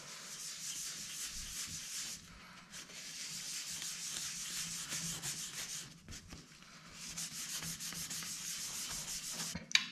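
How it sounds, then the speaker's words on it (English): An oil finish is rubbed by hand into a wood tabletop's 240-grit sanded side with an applicator pad, giving steady close scrubbing strokes with a few short pauses and no talking. "I'm gonna put it actually on the applicator pad. And we're gonna rub it in to the 240 side first."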